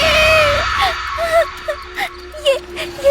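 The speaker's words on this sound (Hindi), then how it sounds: "शिवानी उसे देखकर जोर से चिल्लाई" In an animated ghost story, a girl screams loudly at a scarecrow: one sustained shrill cry, then a string of shorter wavering wails over a steady tonal background.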